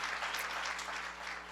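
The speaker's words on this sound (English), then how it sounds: "please give her a round of applause" Brief faint audience applause at a White House event, an even patter of clapping over a low steady hum.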